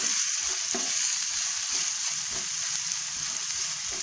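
Cut okra (lady's finger) fries in a pan for a dry fry, giving a steady close sizzle with soft crackles and a few light stirring knocks.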